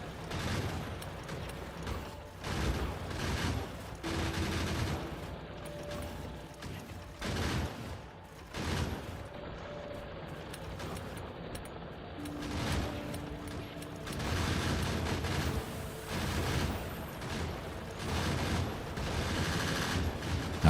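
Gun turrets in Factorio fire repeated rapid bursts, fairly close, with rattling mechanical clatter between the volleys over a long stretch and no talking.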